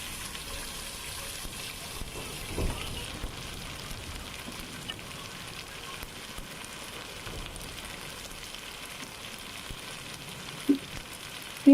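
Ginger garlic paste frying with browned onions in a pan makes a steady, even sizzle, close and moderate in level, with a few small knocks and clinks near the end.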